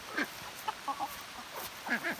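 Backyard chickens cluck softly in scattered short calls, close by but quiet, with no one speaking.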